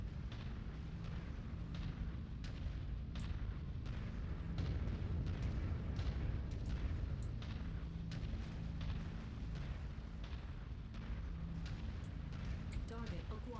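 A Jaegermech fires artillery in MechWarrior 5, a series of deep booming shots with sharp cracks at irregular intervals, mixed into steady mech rumble and battle noise while someone talks over it.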